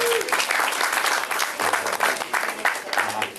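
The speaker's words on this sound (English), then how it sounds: "Let's get a round of applause." A small open-mic crowd at the Brew House claps, a dense burst of applause that fluctuates in intensity with a few audible voices mixed in, fairly quiet and close.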